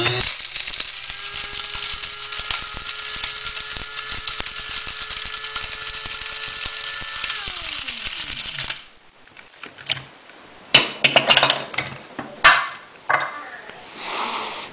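Small electric coffee grinder whirring steadily as it grinds cardamom, clove and cinnamon, a loud continuous motor drone that winds down and stops, followed by scattered clicks and rattles.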